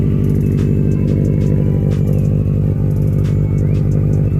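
A Subaru WRX STI with a Stage 2 upgrade sits idling out of gear, its loud, steady engine rumble running throughout with a lumpy, slightly uneven throb and faint mechanical clatter.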